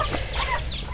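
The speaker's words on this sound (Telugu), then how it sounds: "లోపలైతే కొన్ని కోళ్ళు ఉన్నాయి." Chickens cluck inside a coop on a native poultry farm, short close calls overlapping one another above a steady low hum, with no voices present.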